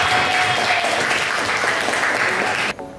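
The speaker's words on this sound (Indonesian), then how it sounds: "Oke, beri aplaus untuk Aisyah." Classroom applause for a student during a biology lesson on the digestive system, steady dense clapping from a group of students that cuts off abruptly near the end.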